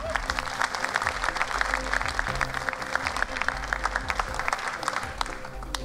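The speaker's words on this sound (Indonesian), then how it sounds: "Saya kepingin sekali lagi semua yang ada di sini memberikan aplaus pada mereka" A crowd at a competition event applauds with dense, continuous clapping that holds at an even, fairly loud level from start to finish.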